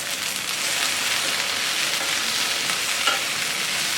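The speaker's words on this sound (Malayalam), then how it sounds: "ഇടയ്ക്ക് പാൻ്റെ മൂടി മാറ്റി നന്നായിട്ട് വഴറ്റി കൊടുക്കണം" Okra pepper masala sautéing in a pan over low flame, a close, continuous crackling sizzle with soft stirring scrapes, steady throughout.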